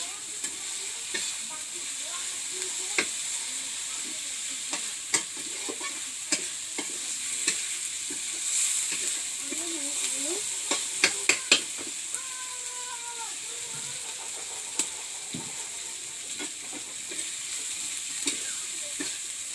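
Curry with khichuri sizzles steadily in a pot while being stirred, with scattered scrapes and clinks of the spoon against the vessel over a constant soft frying hiss in a village kitchen.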